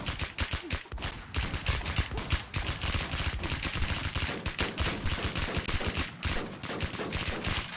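Dense, rapid gunfire in a video game, with bursts of automatic weapons crackling almost nonstop, loud and close, with brief gaps between volleys.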